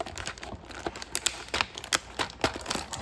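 Scissors snip through plastic toy packaging in a run of short, sharp cuts and crinkles, close and fairly quiet, with irregular gaps between them.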